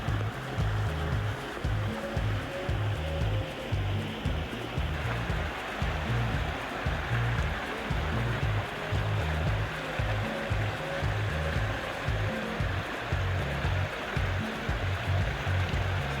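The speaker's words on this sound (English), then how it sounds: "check out this waterfall" Rushing water from a waterfall along a stream in Jamaica, a steady, loud broadband roar with a low rumbling churn that carries on without a break.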